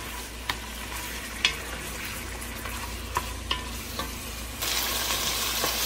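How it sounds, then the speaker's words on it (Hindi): Ginger garlic paste and green chili paste fry in a pan with a steady sizzle, broken by several sharp clicks of a spoon stirring and scraping, and the sizzle grows louder near the end; no one speaks. "हमें 2 से 3 मिनट अदरक लहसुन के पेस्ट हरी मिर्चों के पेस्ट के साथ भूनते हुए हो गए हैं"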